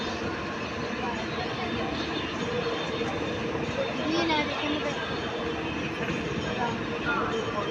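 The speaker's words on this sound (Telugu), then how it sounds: "బాపట్ల అయితే వచ్చింది ట్రైన్" A continuous rumble of a train moving along the tracks as it arrives at a station, heard from on board, with a steady rattle throughout and faint voices underneath.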